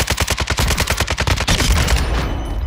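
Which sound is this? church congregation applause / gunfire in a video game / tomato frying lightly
gunfire in a video game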